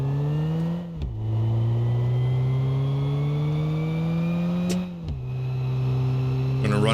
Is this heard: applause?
no